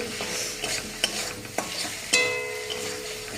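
Eggplant and other vegetables stirred in a hot pan, with soft scraping strokes and sharp utensil clicks over a faint, steady frying hiss. The strokes come at an uneven rhythm.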